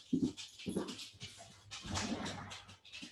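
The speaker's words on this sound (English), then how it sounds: "Can you hold on while I let my dog out to pee?" A pet dog whimpering indoors in a series of short, high, plaintive whines and soft yips, close by and fairly quiet, with faint panting between them and no talking.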